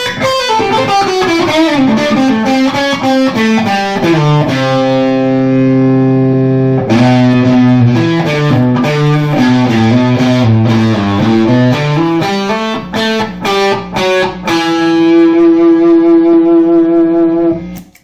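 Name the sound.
electric guitar with ratty distortion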